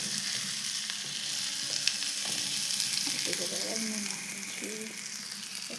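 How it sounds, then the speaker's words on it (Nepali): Paneer spiced with turmeric and red chili frying in a pan gives a steady close sizzle with light stirring scrapes and a few pops, continuous and moderately loud, a faint voice briefly heard underneath. "अब चाहिँ पनिर अलि फ्राई गरेकै हो यो"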